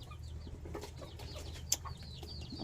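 Chicks in a backyard coop peep in quick, high, scattered chirps while being moved inside, with a brief rustle or thump partway through and a low hum underneath.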